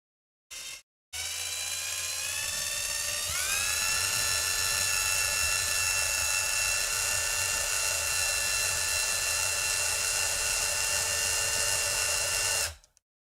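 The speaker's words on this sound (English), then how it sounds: "I'm actually going to drill 2 holes right now." An electric drill bores holes in a guitar under construction, giving a steady high-pitched whine that rises as it spins up, then runs evenly for about ten seconds before stopping. No talk.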